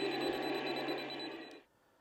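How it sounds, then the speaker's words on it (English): A dying radio control transmitter for an Armortek Tiger 1 model tank sends out a steady, shrill electronic tone. It holds constant at moderate level for about a second and a half, then cuts off into quiet. "The beeping sound in the background is my radio starting to die"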